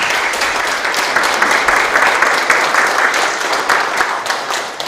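Sustained applause from an audience at a municipal community visit event in Icheon, steady and loud throughout, with a faint voice underneath.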